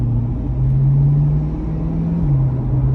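Chevrolet Corvette C8 fitted with a Corsa exhaust, driven in tour mode at medium throttle, giving a loud, steady, deep engine drone from inside the car whose pitch holds, rises slightly, then drops a little; no talk.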